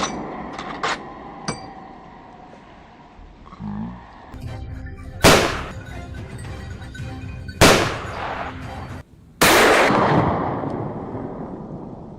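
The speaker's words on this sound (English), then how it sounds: "A rapid burst of gunfire cracked the air." Gunshots ring out during an outdoor wild boar hunt: three sharp, loud cracks spaced a couple of seconds apart, each trailing off into echo over quieter background rustling and ambient noise.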